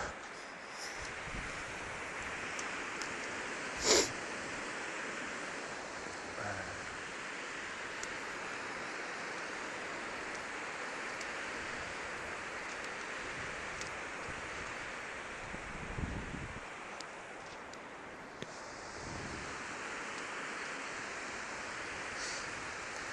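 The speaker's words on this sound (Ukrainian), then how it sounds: "Більше хвилі, більше шуму." Steady ocean surf washes continuously at high tide, with broadband wave noise and some wind rumble throughout; no voices.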